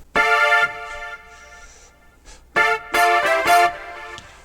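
PWM stab patch on a Yamaha MODX keyboard: short, bright, buzzy synth chord stabs in an irregular rhythm, a loud hit, quieter sustained tones, then a cluster of punchy stabs, played alone and close.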